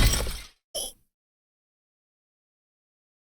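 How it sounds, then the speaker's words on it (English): A wine glass squeezed until it shatters, a brief sharp crack and splinter of glass followed by a short tinkling burst, then silence. "The loud noise of glass splintering made me jump."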